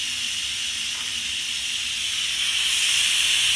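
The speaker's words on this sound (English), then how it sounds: "as you can tell, the steam's coming out" Steam vents from an Instant Pot pressure cooker as a loud, steady, continuous hiss that holds for the whole stretch and swells slightly toward the end, with no voices.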